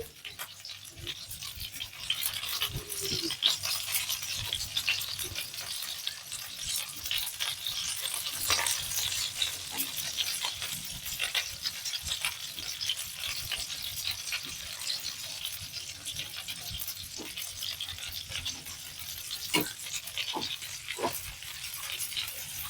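Toothpick-skewered prawn crisps frying in hot oil, a steady crackling hiss running throughout with scattered sharper pops and the occasional clink, heard close with no talking.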